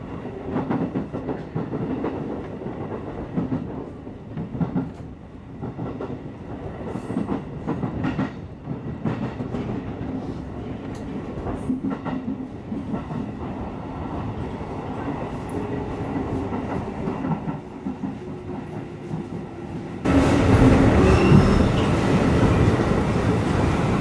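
A JR Chuo Line train runs steadily on rails through Yamanashi, a continuous rumbling roll with faint clickety-clack that swells louder and brighter near the end.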